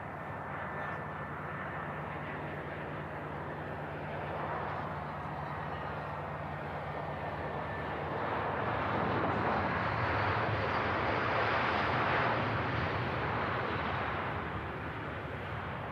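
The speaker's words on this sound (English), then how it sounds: "There we go, the EasyJets touching down." An EasyJet airliner touches down on runway 05 left at Manchester Airport, a broad distant engine roar that swells and grows louder over the last half with steady rumbling noise throughout.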